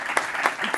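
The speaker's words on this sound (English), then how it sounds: "Give yourself a round of applause, and for this panel as well." Brief burst of applause from an audience at a healthcare AI panel event opening a new pavilion, a steady wash of hand claps with a few sharper peaks, close and fairly loud.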